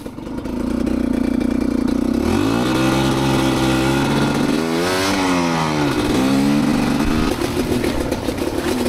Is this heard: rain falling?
no